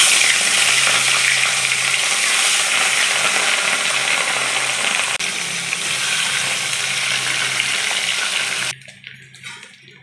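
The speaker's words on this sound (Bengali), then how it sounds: "তেলটা গরম হয়ে গেছে, এবার আমি মাছগুলো একটা একটা করে দিয়ে দেবো।" Pieces of catla fish fry in hot oil with a loud, steady, dense sizzle that continues for several seconds before dropping sharply to a much quieter crackle near the end.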